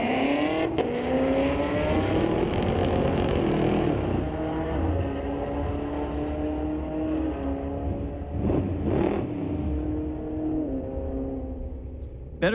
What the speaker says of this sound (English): Nice matchup between Chevrolet and Dodge on the start line.